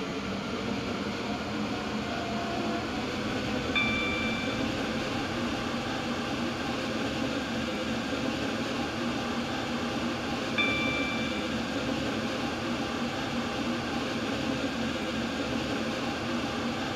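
A Class 377 electric train in a railway video game runs along at a steady pace with a continuous low rumble and hiss, and two brief faint electronic beeps sound partway through.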